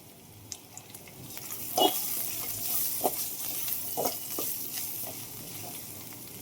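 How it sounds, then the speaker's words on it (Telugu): Onions fry in a pan with turmeric and get stirred, a soft steady sizzle broken by a few scraping stirs, close and fairly quiet with no talk. "ఎర్రగడ్డలు అయితే బాగా వేగాయండి."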